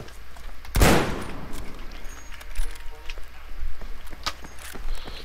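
Gunfire rings out in Battlefield V: one loud, close shot stands out, followed by scattered fainter distant shots and clatter. Quiet background bustle carries on throughout.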